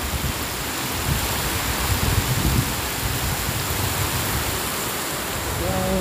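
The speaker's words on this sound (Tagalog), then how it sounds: "Sobrang lakas ng ulan." Heavy rain pours down steadily outdoors in Quezon City in a dense, unbroken hiss that fills the whole stretch, loud and close.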